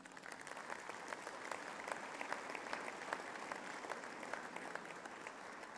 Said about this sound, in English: we owe all the parents and supporters a very good round of applause